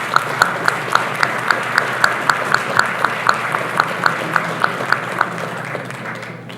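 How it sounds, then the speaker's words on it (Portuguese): Audience at a parks and society conference applauding a guest, a loud sustained round of clapping with a regular, rhythmic pulse that gradually eases off toward the end. "queria pedir uma salva de palmas de todos para o Fernando."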